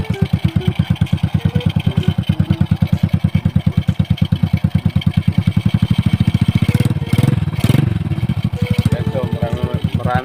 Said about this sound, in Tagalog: Papainitin yung makina.